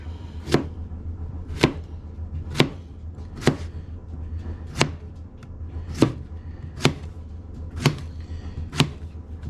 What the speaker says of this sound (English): we'll chop up the zucchini